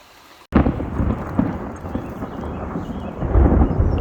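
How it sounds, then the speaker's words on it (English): A loud crack of close thunder during a flood storm breaks out suddenly from near silence, then rolls on as a long, heavy rumble that swells again toward the end. "you can still hear the thunder and stuff in the back fairly close"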